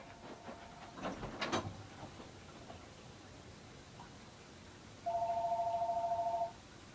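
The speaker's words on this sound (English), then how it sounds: "Phone's frickin' ringing again." A telephone rings with a steady electronic warble for about a second and a half near the end, loud and clear over a quiet room hiss, after an earlier brief clatter.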